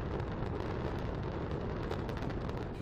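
Sequenced demolition charges set in 1,200 holes across seven floors bring down the historic Deauville Beach Resort hotel in Miami Beach in a controlled implosion, heard as a continuous, heavy, distant roar and rumble with no pauses.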